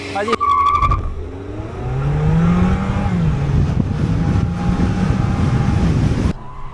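A race car launches on a track for a timed lap, its engine revving hard and rising in pitch through the gears with a brief tyre screech at the start, loud and close before cutting off.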